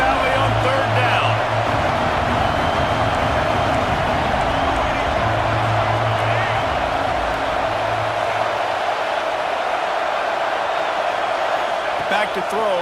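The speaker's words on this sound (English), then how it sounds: "Here comes the noise from this big crowd in Happy Valley on 3rd down." Loud, steady roar of a big stadium crowd at Happy Valley during a third-down play in a college football video game, Ole Miss vs Penn State, swelling continuously with no talk over it.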